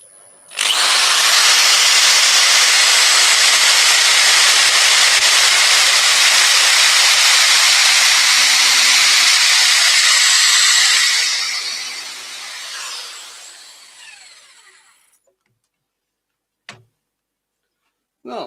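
A power drill fitted with a sanding pad whirs loudly against wood for about eleven seconds, a steady high buzzing abrasion close by that winds down and stops, followed by silence and a couple of faint knocks.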